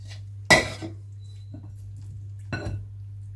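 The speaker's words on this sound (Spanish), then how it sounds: "Vamos a echar lo que es el zumo de limón. Y el zumo de naranja. Y vamos a mezclarlo bien." A spoon scrapes and clinks against a saucepan while lemon juice and orange juice are mixed, two short metallic stirring bursts separated by a pause, over a steady low hum.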